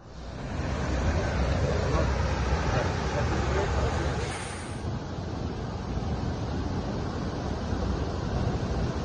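La Paz Waterfall in the Costa Rican rainforest, a steady broadband roar of falling water heard up close, loud and continuous throughout with no pauses.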